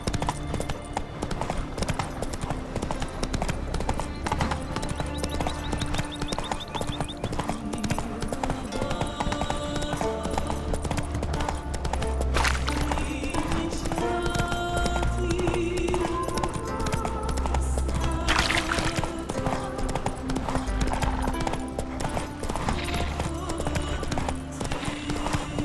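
Horse hooves clip-clopping at a gallop through The Witcher 3, a steady driving rhythm running the whole time under game music and ambience, with brief speech from characters now and then.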